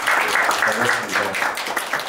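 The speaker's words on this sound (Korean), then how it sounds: "박수 부탁드리겠습니다." Steady applause from a forum audience, a broad wash of clapping lasting about two seconds at even loudness.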